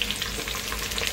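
Onions, green chillies and carrots fry in a pan for biryani with a dense, even sizzle up close, broken by faint spatters and light spoon movement, and nobody speaks.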